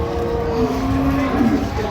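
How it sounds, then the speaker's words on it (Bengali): Sahiwal cows and calves moo at a busy cattle market, a long drawn-out low bellow rising and sliding over steady crowd hubbub, fairly close and clear. "আমরা দেখছিলাম এখানে গাভী বাছুর"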